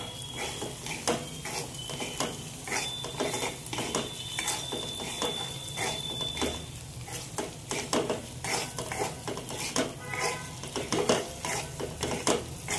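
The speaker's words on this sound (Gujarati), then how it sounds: "તો ચલો આપણે સારી રીતે બધું મિક્સ કરી દઈએ" Okra curry with turmeric, coriander-cumin powder and chilli is stirred in a pan, with repeated scraping and clinking of a spoon against metal over a steady sizzle, close and continuous.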